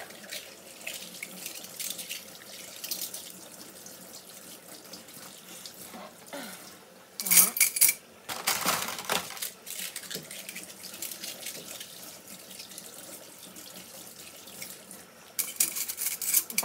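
Tap water runs into a sink at a low steady level, with louder bursts of splashing and clinking as dishes and cutlery are rinsed under the stream.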